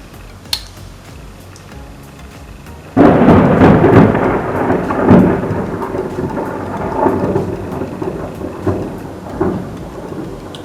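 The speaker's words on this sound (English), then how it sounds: "So it is basically thundering." Loud thunder breaks in abruptly during a storm and rolls on with steady heavy rain, after a quieter stretch of rainfall with a faint click.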